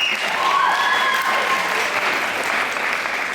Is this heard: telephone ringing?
no